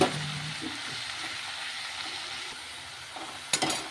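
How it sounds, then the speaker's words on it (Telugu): Amaranth and spinach leaves wilting in oil in a pan give a steady soft sizzle, close by, with a brief clatter of stirring near the end. "కొంచెం ఆయిల్ వేసుకుని ఆయిల్లో మగ్గబెట్టుకోవాలి."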